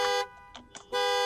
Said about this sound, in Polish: Teraz na kończenie się czasu jest trąbienie auta.